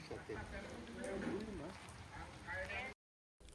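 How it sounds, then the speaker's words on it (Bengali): Light rain patters steadily at a hill camp, a soft continuous hiss with faint murmuring in the background, then a brief silent gap before the drizzle resumes. "ঝিরিঝিরি বৃষ্টি পড়ছে।"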